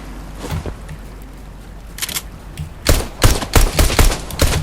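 Pistol gunfire in a video game rings out in a quick series of sharp, loud shots, a few sparse cracks at first and then a rapid run of about six close together near the end.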